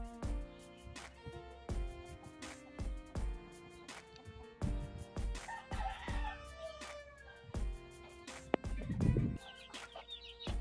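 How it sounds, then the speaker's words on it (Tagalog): Native chickens, roosters and chicks on a farm, with steady clucking and peeping throughout and occasional louder calls, close by, no talk. "Daming sisiyo guys, oh."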